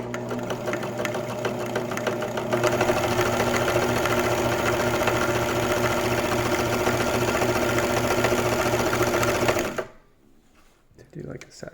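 An Elna T SP 72C sewing machine stitching at a steady fast rhythm, a loud close mechanical whirr with a regular beat that stops abruptly near the end, leaving quiet handling noise.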